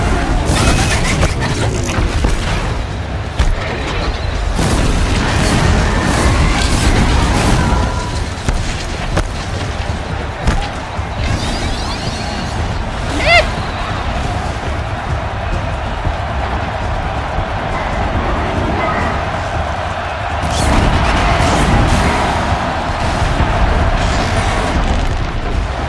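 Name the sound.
machine shooting rocks in Horizon Zero Dawn video game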